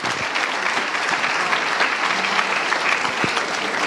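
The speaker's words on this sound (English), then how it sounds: "round of applause." Audience applause welcoming a speaker onto the stage at an ISKCON fundraiser, a loud, dense and continuous clapping from a large crowd throughout.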